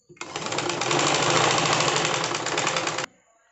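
A sewing machine stitches a shirt collar in one steady, close, loud run of about three seconds, its rapid needle rhythm starting and stopping abruptly.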